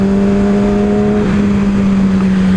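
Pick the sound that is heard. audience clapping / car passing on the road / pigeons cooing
car passing on the road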